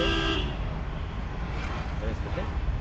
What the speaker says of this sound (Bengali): হর্ন বাজায় এর হর্ন